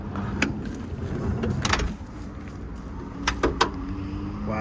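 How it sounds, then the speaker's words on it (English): The door of a 1995 Toyota Hiace turbo diesel van, offered for sale, closes by itself with a few sharp clunks and latching knocks heard close over a steady low background rumble. "The door just closed by itself."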